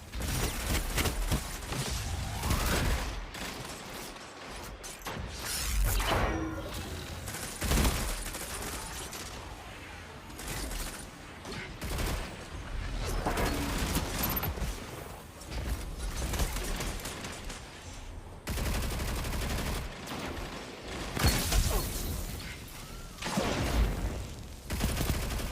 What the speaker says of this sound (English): I'm just trying to keep mid-map control with my submachine gun